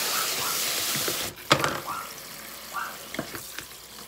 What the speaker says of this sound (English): It does splash water everywhere.